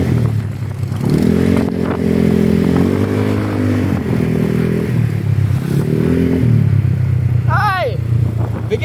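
A Honda Click scooter engine revs loudly and steadily at an informal drag race, its pitch rising and falling across several throttle surges, with people talking over it.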